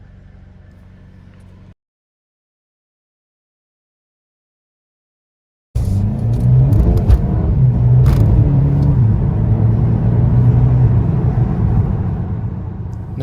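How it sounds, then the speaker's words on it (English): Mercedes-AMG A35 4Matic sedan from 2021 pulling away under mild acceleration with a touch of wheel spin: a loud, close engine roar and road rumble that builds and holds steady after a brief quiet gap, with faint tyre noise mixed in. "that was a mild acceleration. There was wheel spin"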